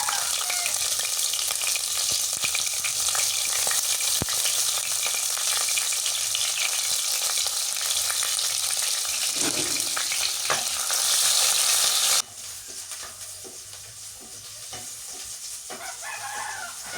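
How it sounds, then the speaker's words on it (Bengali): Green chilies and chopped onions frying in a pan for a spicy beef curry, a loud steady sizzle that drops sharply to a quieter crackle partway through, with faint rooster crowing in the background. "মরিচ পেঁয়াজ ভাজা হয়ে গেছে"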